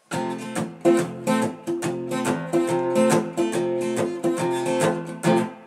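Guitar chords strummed in a bouncy rhythm with a damped, thumpy attack, each stroke cut short before the next.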